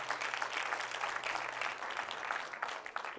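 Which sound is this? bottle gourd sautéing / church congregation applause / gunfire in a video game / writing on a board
church congregation applause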